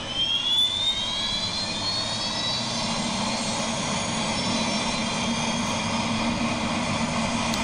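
Antonov AN-140 turboprop engines spooling up in a flight simulator game, a steady droning whine with a rising high-pitched tone early on, holding loud and continuous with no voices.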